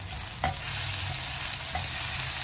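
Ginger, garlic and chili paste fries in oil, a dense, even sizzling hiss close by, with a couple of brief utensil scrapes and no speech.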